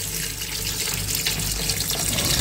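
Water gushes steadily into a cooking pot of sautéed beef, a full, continuous pouring splash heard close and without voices throughout.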